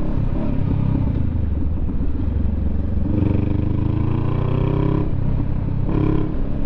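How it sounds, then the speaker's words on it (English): A motorcycle engine rumbles close by and then rises in pitch as the clutch is let out and the bike pulls away, loud and continuous. "Easy with the clutch, Dave."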